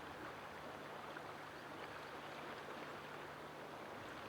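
The Big Thompson river at Sylvan Dale Guest Ranch rushes steadily with a soft, even broadband hiss of flowing water, heard faintly and continuously at some distance with no other sounds.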